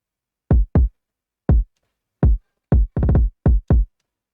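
A punchy electronic kick drum sample is played in FL Studio, giving eight deep, booming thumps in an uneven pattern, loud and dry with a quick decay.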